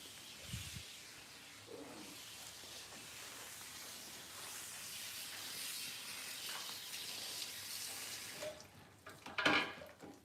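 Water runs steadily as a broad, soft hiss during a quick hair wash, with a brief louder splash near the end.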